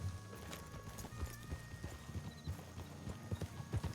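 Horse hooves clip-clop at a steady walking rhythm in the Western video game Red Dead Redemption, muffled thuds over low ambient background noise.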